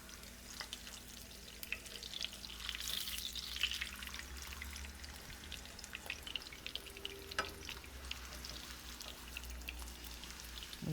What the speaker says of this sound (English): Turn it over and let it bubble on the other side.